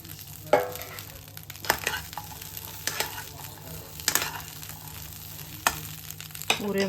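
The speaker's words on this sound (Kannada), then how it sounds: "ಈಗ ನೋಡ್ರಿ, ಅರ್ಧ ಕೆ ಜಿ ಹಸಿಕಾಯಿ ಇವನು ಚೆಂದ ಹುರ್ಕೋಬೇಕು." Half a kilo of green chillies fry in oil, with a soft steady sizzle under sharp intermittent clatters of a spatula stirring the pan. The sound is close and fairly quiet, with no speech.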